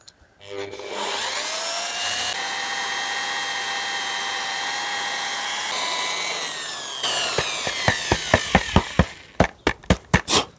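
A power sander works a car windshield with 600 grit abrasive, a steady close whirring drone that rises in pitch, then breaks into a rapid series of sharp rhythmic scuffing pulses as the tool is moved and stopped.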